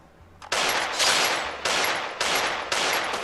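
Desert Eagle shots in the game Free Fire crack out loud and close, four heavy blasts spaced roughly a second apart, each with a broad ringing tail.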